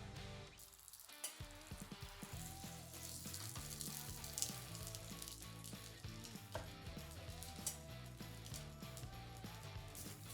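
Corn halves frying in a hot pan, a continuous crackling sizzle with frequent sharp pops and spits, close and fairly quiet, with faint tonal background sound underneath.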